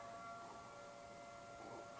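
A phone alert wails in a hearing room, a steady faint siren-like tone held throughout over low room hum, with no talking.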